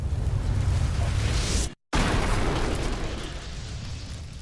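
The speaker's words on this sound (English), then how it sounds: "the explosion could be heard from over a mile away" A house doused in gasoline explodes with a loud, sustained broadband blast and roar that cuts out for an instant, then returns as a rumbling wash slowly fading away.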